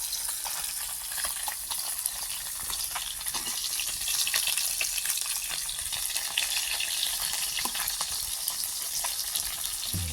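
Bata fish fries in hot oil in a home kitchen. The crackling sizzle is steady and close, with occasional louder pops and no voices.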